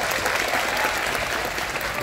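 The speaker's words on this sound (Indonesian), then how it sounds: "Kasih tepuk tangan dong." Crowd applause, dense and continuous clapping at an even level from start to finish.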